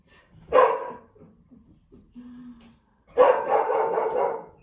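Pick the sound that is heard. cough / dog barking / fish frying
dog barking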